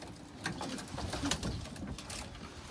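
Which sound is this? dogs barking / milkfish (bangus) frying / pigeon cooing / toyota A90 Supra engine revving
pigeon cooing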